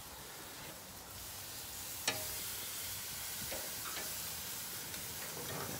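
A sausage sizzles on a barbecue grill right after being flipped, beside carne asada and pollo verde: a steady, close, hissing fry with a sharp clank partway through and a few light knocks.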